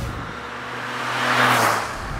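A Maruti Suzuki Alto K10 hatchback driving, a steady engine and road hum that swells as it passes close around the middle, then eases off, with no talk.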